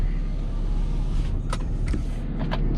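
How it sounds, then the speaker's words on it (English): A diesel pickup truck idles after hauling heavy, its low steady engine rumble running close and continuous throughout, with a few faint higher clicks and rattles near the end. "Let the truck idle, cool herself down."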